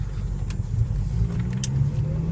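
Exhaust rumble from a Mk5 car with muffler and resonator deleted, a deep steady low-frequency drone as the engine runs and revs during a drive, loud and close, with no talk.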